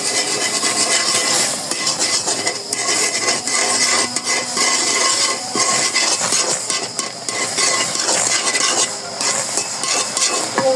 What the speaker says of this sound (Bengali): এই যে এখন গুঁড়িগুলো ঢেলে দেব।